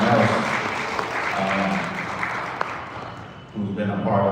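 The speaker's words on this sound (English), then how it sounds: "let's all give a round of applause to Miss Joanna Stewart" At an MLK Sunday dinner, a crowd applauds steadily for a few seconds as a voice speaks over it, and the clapping thins toward the end.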